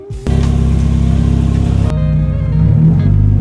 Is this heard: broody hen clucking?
no